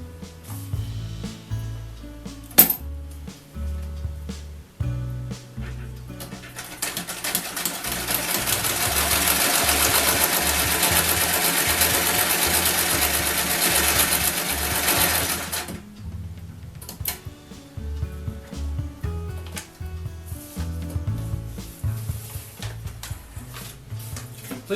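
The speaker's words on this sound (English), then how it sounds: "Not only is it a Singer sewing machine, it's a working Singer sewing machine." A working Singer sewing machine found at a garage sale runs steadily for several seconds, a fast, dense mechanical whir and needle chatter, surrounded by quieter clicks and handling of the machine before and after.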